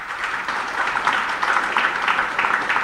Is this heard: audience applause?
yes